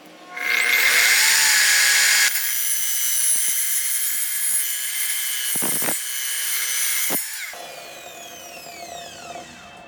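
A power saw cuts through clamped metal stock, a loud sustained high-pitched whine that steadies, dips briefly twice, then fades near the end. No voices are heard.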